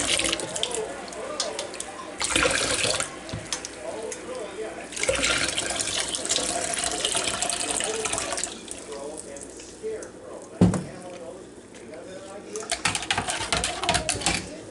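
Water is poured into a pot holding used tea bags for sweet tea, in several long, steady splashing pours separated by brief quieter gaps.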